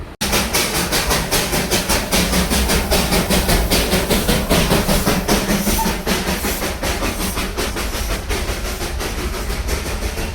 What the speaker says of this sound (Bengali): আর এখানে দেখো টয় ট্রেন যাচ্ছে